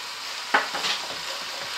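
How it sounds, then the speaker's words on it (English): Bolognese risotto with tomato puree and herbs is stirred in a pan, giving a soft sizzle with a quick scrape and a few light clatters over a short moment. "Give that a good stir, mix it all the way through"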